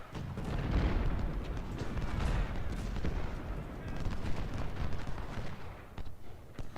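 Gunfire in the Civil War strategy game Ultimate General: Civil War, with a dense, rolling crackle of musket volleys mixed with heavier booms of artillery, continuous and busy across the whole stretch, with no talk over it.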